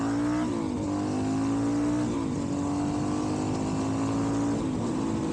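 A loud Suzuki DR-Z400SM motorcycle engine with a 12-tooth sprocket idles and revs steadily up close, with a buzzing, sustained drone that rises and dips slightly a few times.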